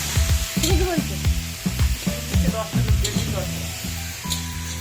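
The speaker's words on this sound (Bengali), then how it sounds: "এদিকে আমি আলু ফুলকপি ভাজা শুরু করে দিয়েছি।" Potato and cauliflower pieces frying in a pan give a steady close sizzle with stirring, while voices sound over it in rhythmic bursts.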